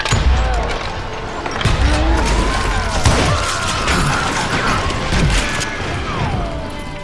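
An auto shotgun firing in the video game Call of Juarez Gunslinger: a rapid string of loud, booming blasts and clattering impacts that carries on across the scene, mixed with game effects.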